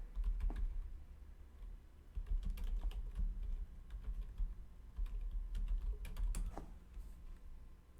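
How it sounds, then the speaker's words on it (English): Quiet, steady clatter of keys typed on a computer keyboard, irregular taps with brief pauses, close and alone in a calm room. "We're going to type this in."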